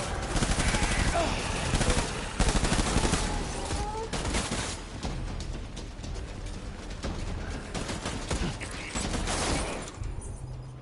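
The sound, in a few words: gunfire in the video game Death Stranding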